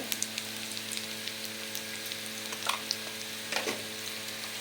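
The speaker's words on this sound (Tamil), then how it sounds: "இதையும் அந்த வெங்காயம், வரமிளகாய், இஞ்சி பூண்டு விழுதோடு நல்லா சேர்த்து வதக்கி விட்டுடலாம், பச்சை வாசம் போகிற வரையும்" Chicken sautéing in a pan with onion, dried red chillies and ginger-garlic paste gives a quiet, steady sizzle, broken by a few soft stirring clatters and crackles.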